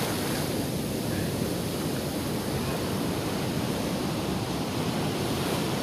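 Surf rolls steadily onto a quiet beach at Sawangan, a dense broadband wash of breaking waves with wind noise, continuous and fairly loud, with no voices.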